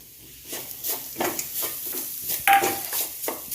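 Mashed boiled potato is stirred in a pan over a low flame, producing soft, irregular scraping and stirring strokes with a faint sizzle and one sharp metallic tap.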